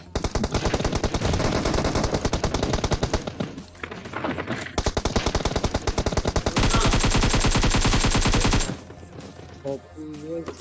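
Rapid automatic gunfire from the PUBG Mobile battle royale game, sniper fight with an M24 and a Kar98, loud and nearly continuous bursts of shots for about eight seconds, then a pause with faint sounds afterward.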